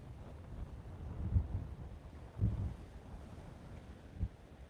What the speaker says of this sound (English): Very windy day in South Texas.